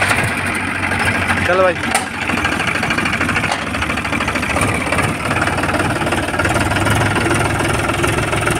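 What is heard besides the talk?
tractor engine starting and idling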